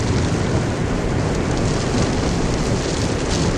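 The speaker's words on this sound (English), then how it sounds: "It's raining." Heavy rain pours steadily and loudly during a tornado storm near Allison, Texas, a dense continuous hiss of drops with no talk.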